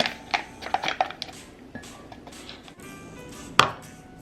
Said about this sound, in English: Give it one last stir.